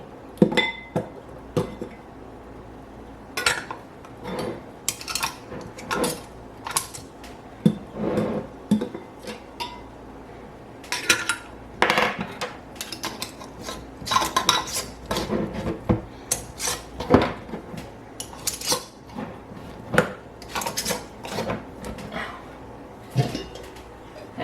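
Metal lids and screw rings are fitted onto glass canning jars of pickled cauliflower and carrots, giving repeated short scraping, rasping twists and clinks in irregular bursts, close and alone.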